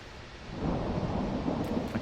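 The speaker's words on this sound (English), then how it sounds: "So it's been raining like this non-stop since about 11 AM yesterday." Heavy, steady rain pours down around a caravan during a day-long storm, with a low rolling rumble of thunder beneath the hiss, and no talking.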